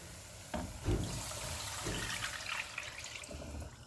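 Chicken stock poured into a pan of roasted flour on medium heat makes a continuous liquid rush and splash for several seconds, with a few louder sloshes near the start.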